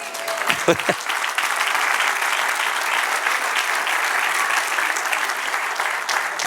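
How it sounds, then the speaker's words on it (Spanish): A church congregation breaks into applause during a Spanish-language sermon on the New Testament, a few sharp claps at the outset swelling into steady, crowded clapping that holds evenly to the end. "Denle un aplauso al Señor."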